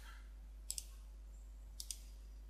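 A computer mouse clicks during Photoshop work, two quick double clicks about a second apart, faint and close against a low steady hum.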